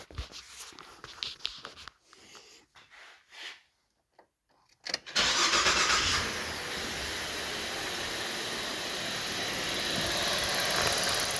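A GMC Acadia with a fuel pressure problem: after a few quiet seconds of faint clicks and handling noise, the engine cranks and catches abruptly, then settles into a loud, steady, close idle hum.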